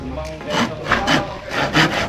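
A hand saw cuts through wood in four steady back-and-forth strokes, each a rasping scrape, close up.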